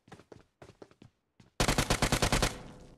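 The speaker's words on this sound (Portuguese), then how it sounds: "Eita, tá tendo tiroteio ali, bora lá tentar pegar eles pelas costas." A rapid burst of automatic gunfire in PUBG Mobile erupts loud and close after a stretch of talking, about a dozen quick shots in a tight rhythm before trailing off into a noisy tail.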